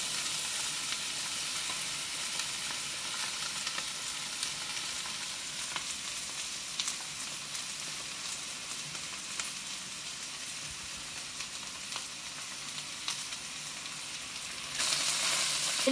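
Okra and onions fry in a pan over a medium-low flame, making a steady, fairly soft crackling sizzle with occasional small pops, heard close and without speech, swelling briefly louder at the very end.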